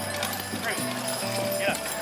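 Horses' hooves clip-clop in a tandem hitch driving class with a Clydesdale lead horse, the steady hoofbeats coming through under ongoing talk.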